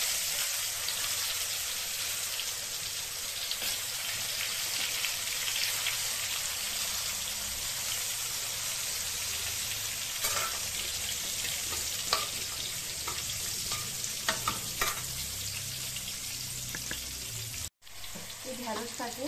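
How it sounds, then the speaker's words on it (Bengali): Okra frying in a pan: a steady, dense sizzle with crackling pops throughout, a few louder spatters and clinks near the end, and the hiss briefly cutting out just before the close, with no talking. "ভেজে নেব।"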